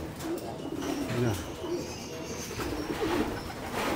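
Several stock pigeon cocks coo in an aviary loft, their low, soft, rolling calls repeating and overlapping at close range against a steady background hum.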